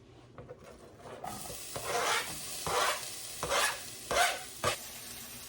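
Red onions sizzling in a hot pan while a spoon stirs and scrapes them in repeated rhythmic strokes, close and moderately loud, with no talking.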